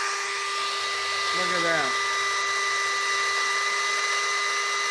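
A power drill runs steadily off a bus battery bank at a constant 16 amps, a continuous high whine with a brief pitch dip midway, while someone speaks briefly over it.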